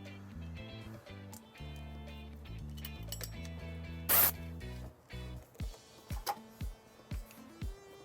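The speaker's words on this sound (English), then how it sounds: "we're just going to place a zip tie right here." A plastic zip tie is ratcheted tight around trailer wiring under a car, with a quick rasping zip followed by several short clicking pulls.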